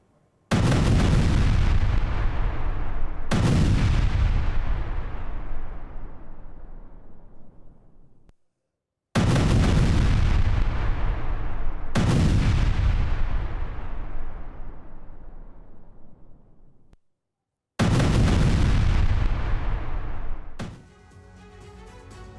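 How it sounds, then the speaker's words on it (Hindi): Three heavy blasts from a strike on a mosque in southern Lebanon, each a loud boom followed by a long rumbling decay, with short gaps between them. "भारी विस्फोट से मस्जिद को उड़ाने का दावा किया जा रहा है"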